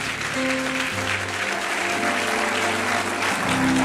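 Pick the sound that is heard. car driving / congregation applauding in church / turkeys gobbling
congregation applauding in church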